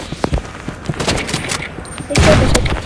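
Rapid bursts of gunfire from weapons in the Roblox game Rivals during a 1v1 arena match, repeated shots and booms loud and close, with a heavier volley near the end.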